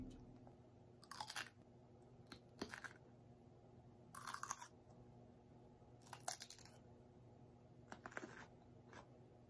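Close, crunchy bites and chewing of food in a quiet room, several separate bursts of crunching spaced a second or two apart with near-silence between them.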